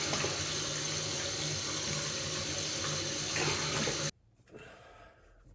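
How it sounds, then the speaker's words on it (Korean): Tap water runs steadily into a sink while dishes are washed at home, a close, continuous splashing rush that stops abruptly after about four seconds, leaving faint handling sounds. "자기가 먹은 건 설거지를 한다"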